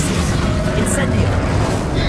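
An Incendio fire spell blasts in Hogwarts Legacy, a loud, dense burst of roaring fire and booming impact that fills the whole moment, mixed with combat noise and a voice.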